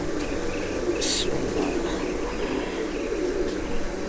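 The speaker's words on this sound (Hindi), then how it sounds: "अच्छा जी ये इसी कबूतर के पट्टे हैं जी" Pigeons in a loft in Pakistan give soft, faint cooing over a low steady background hum, with a brief brighter hiss midway.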